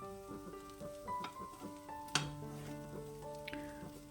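Thinly sliced onions sizzle steadily in a pan for a Kerala-style egg roast, a soft continuous fry with occasional light clinks of a spoon against the pan.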